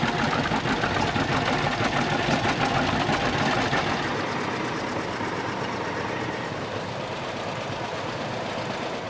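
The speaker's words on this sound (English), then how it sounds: "you get all them pop-up tractors in the back, and it's got a nice little beat to it" Dozens of John Deere two-cylinder 'Johnny Popper' tractors gathered for the brand's 100th anniversary, engines running together in a loud, continuous rumbling drone with a fast chugging texture, easing slightly partway through.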